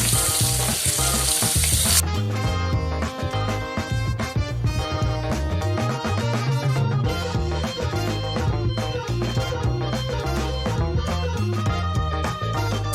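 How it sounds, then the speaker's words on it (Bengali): Potato pieces fry in a hot pan for a vegetarian lunch dish, giving a dense, steady sizzle and crackle that carries on throughout, with occasional stirring scrapes and no talking. "আলুগুলোকে একটু লাল লাল করে ভেজে নেব।"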